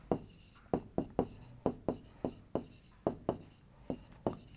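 A pen writing by hand on paper during a maths lesson, giving quick rhythmic strokes and taps, about a dozen in close succession, near and clear beneath faint background room tone.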